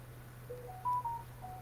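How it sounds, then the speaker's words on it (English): A mobile phone gives off a short run of electronic beeps at shifting pitches, fairly faint, with a steady low hum underneath and no talking. "My phone's going nuts."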